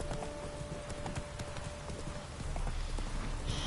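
Hooves of the horse Roach clip-clop steadily in a quick galloping rhythm in a video game, close and continuous throughout.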